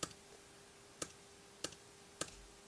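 Four sharp, separate key clicks from a CHESONA 10.2-inch iPad keyboard, pressed about half a second apart while changing the backlight, quiet and close with a faint steady hum beneath.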